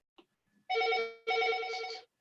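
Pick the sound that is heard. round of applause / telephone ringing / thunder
telephone ringing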